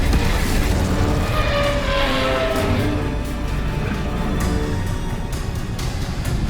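Incendio fire spell cast in Hogwarts Legacy, a loud continuous roaring, crackling burst of flame with rumbling booms underneath, sustained for several seconds.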